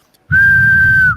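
A person whistles to imitate the wind whistle from a Ford Bronco's hood seal, giving one steady, loud, single-pitched tone of about a second over a low breathy rumble.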